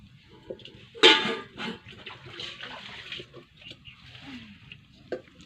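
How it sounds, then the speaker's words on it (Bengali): Water pours into a cooking pot on a home stove, a splashing gush near the start followed by quieter trickles and pot clatter, fairly close and moderate in level. "এর মধ্যে একটু জল দিতে হবে।"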